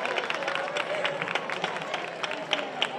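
Applause rises from the crowd at the Verbena San Paulino, a Spanish neighborhood street festival, as its queens are crowned, a steady dense patter of many hands clapping close by with some chatter mixed in.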